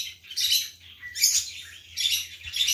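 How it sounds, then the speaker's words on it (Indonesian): Noisy birds chirp and tweet in repeated bright bursts, fairly close and lively, with no one speaking. "Burungnya berisik banget ya"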